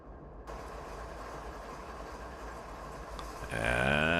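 Simulated freight train rolls through the Canadian mountain pass in Train Simulator 2019, a steady rumbling clatter of wheels on rail, joined near the end by a rising whining mechanical tone.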